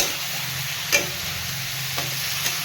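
Snakehead fish curry sizzles steadily in a pan, a close, continuous frying hiss with a few soft clicks of stirring and no talk.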